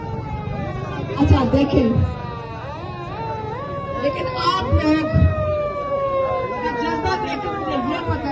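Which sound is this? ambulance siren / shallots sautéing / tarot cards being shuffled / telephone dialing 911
ambulance siren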